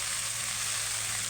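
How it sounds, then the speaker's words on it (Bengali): Masala fries in released oil in a pan, giving a steady, close crackling sizzle that continues unbroken, with no talking. "আমার মশলাটা ভাজা হয়ে গেছে"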